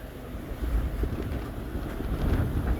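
A sailing boat running at about 6.5 knots through a sea swell, with steady rushing water and hull wash under continuous wind buffeting on the microphone, loud and close with no talking.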